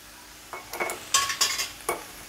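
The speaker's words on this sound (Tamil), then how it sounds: "இப்போ தக்காளியும் ஓரளவு வதங்கி எடுத்து இப்போ புடலங்காவும் அதில் சேர்த்துப்போம்" Snake gourd tipped into a pan of sautéed tomato and stirred: a handful of close metallic scrapes and clatters from a spatula over a light sizzle, in short uneven bursts, with no voices.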